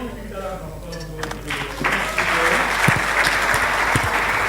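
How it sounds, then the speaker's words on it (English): Conference audience applauding the speakers, steady sustained clapping that swells and holds at a fairly loud level, with a voice talking over it at the start. "Please don't stop giving that applause to all our speakers and our guests here."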